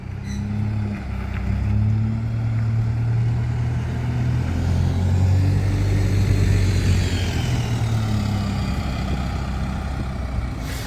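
A diesel bus turns into Jarrow bus station, its engine droning steadily with a low rising and falling note as it manoeuvres, near and fairly loud with no talking.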